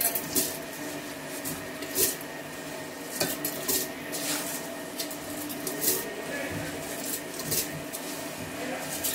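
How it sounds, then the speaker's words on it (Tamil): Rice is tipped into a pot and stirred for vegetable biryani, giving a steady grainy rustle broken by metallic clinks of a spoon against the vessel. "இப்போ அரிசியை போடுறோம்"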